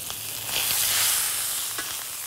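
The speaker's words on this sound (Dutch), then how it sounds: "Dus nu hebben we het aangeschroeid." Beef searing in a hot pan for carpaccio gives a steady, close, loud sizzle with hissing crackle throughout and no voices.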